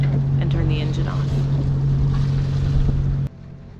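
A sailboat's engine running at sea, a steady low drone with wind and water rushing around it and voices talking over it, cutting off abruptly near the end.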